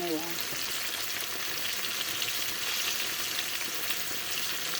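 Food frying in a pan in a home kitchen, a dense continuous sizzle and crackle throughout, close and steady with no pauses.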